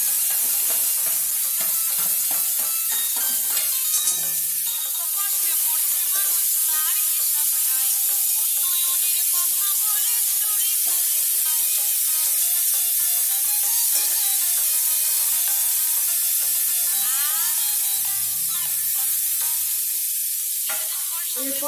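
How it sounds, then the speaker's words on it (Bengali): Boiled banana flower fries in hot oil, giving a loud, continuous crackling sizzle with bright spattering hiss that carries steadily throughout, with occasional faint stirring clinks. "সেদ্ধ করা মোচাটা তেলে দিয়ে দিচ্ছি।"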